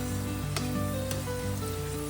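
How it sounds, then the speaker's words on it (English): Shaphaley, Tibetan fried pastries, fry in hot oil over a medium flame with a loud, steady close sizzle broken by a couple of sharp pops. "carefully add the shaphaley to fry"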